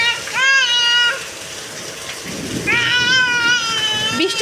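Rain falls steadily outdoors as a soft, constant hiss in the background, largely masked by a young child's loud, drawn-out whining cries that come in two bursts.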